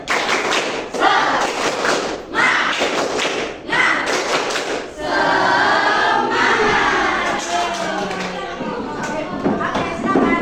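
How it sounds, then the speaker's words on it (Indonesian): Group in a classroom doing the rhythmic spirit clap, tepuk semangat, bursts of patterned clapping and thuds in quick sequences, close and loud, with voices chanting and talking between and over the claps. "1, 2, 3, tepuk semangat."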